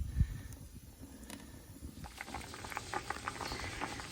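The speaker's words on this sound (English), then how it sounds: "So here you can see the plums boiling away" Plums boil in a pot on a small outdoor wood stove, a dense, steady bubbling and popping heard up close. An earlier thump and quieter patch give way to the continuous simmer, with no voices.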